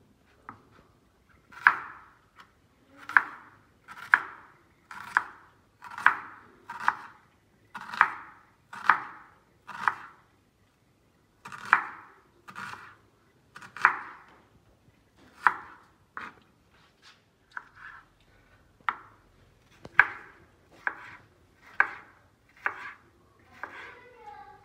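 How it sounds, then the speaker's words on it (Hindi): A knife chops tomatoes on a board with sharp, even strokes in quick runs, pausing briefly now and then, close and fairly quiet, with no one talking. "टमाटर काट रही हूँ।"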